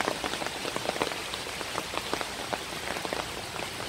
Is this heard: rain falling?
yes